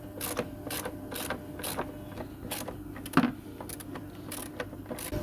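Ratchet with a 16mm socket and extension loosening bolts on an Audi A6 C6 during front coil spring work, a series of rapid clicking bursts, close up, with one sharper metallic clunk midway.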